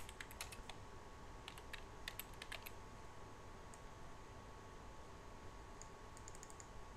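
Text typed on a computer keyboard, faint clusters of quick key clicks in short bursts separated by pauses, over a low steady background hum.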